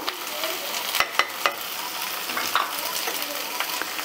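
Ground cumin, coriander and Kashmiri chilli sizzle in oil in a pan, a bright continuous frying hiss broken by sharp scrapes and knocks of stirring.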